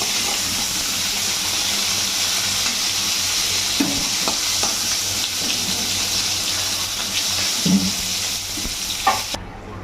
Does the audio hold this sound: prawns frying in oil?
yes